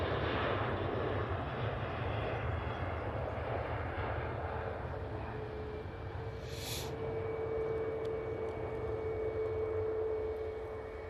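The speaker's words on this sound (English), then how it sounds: "Ryanair there departing." At Manchester Airport a departing Ryanair airliner gives off a moderate, steady jet roar at some distance, with a faint rising engine whine settling into a sustained tone partway through, alone without talk.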